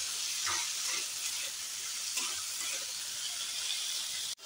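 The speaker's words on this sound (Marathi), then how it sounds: "हे बघा, असं हे तुपात चांगलं परतून घ्यायचं आहे" Roasted peanuts sautéing in ghee give a steady, close hiss of frying with faint stirring scrapes throughout, unbroken and fairly even in level, with no talking.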